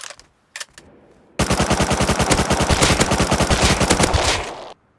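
Automatic gunfire in the Rust video game with the old recoil: a couple of isolated clicks, then a loud, sustained burst of rapid shots lasting about three seconds before it stops abruptly.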